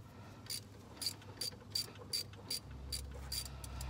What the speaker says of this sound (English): Tensioner takes quite a bit to to wrench down.